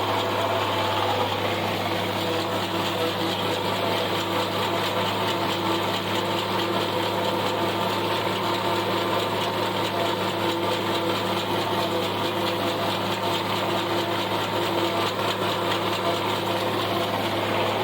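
A tractor engine idling on a farm during mowing and wagon loading: a constant low rumble with a steady buzzing hum, unchanging and close throughout, with no talking.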